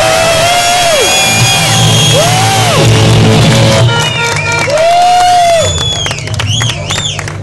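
A crowd at a moto rally concert claps, cheers and shouts encouragement for a performer, loud and continuous, with voices whooping and calling out above the applause.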